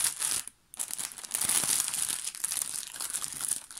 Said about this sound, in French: on va enlever le petit papier, excusez-moi pour le bruit.